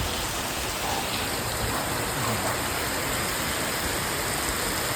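Heavy rain pours down in a dense, unbroken roar, loud and close, with no voices standing out above the downpour.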